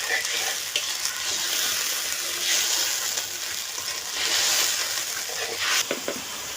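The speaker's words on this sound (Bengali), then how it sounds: "এটা ভালো করে কষিয়ে নেব।" Fish curry masala with turmeric, a little water and salt sautéing in a pan for a Bengali puti fish dish, giving a steady close sizzle with occasional stirring scrapes and no talking.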